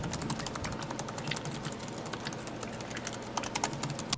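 Continuous rapid typing on a MacBook Pro's chiclet-style backlit keyboard, soft clicky keystrokes tapping steadily and close up with no talking.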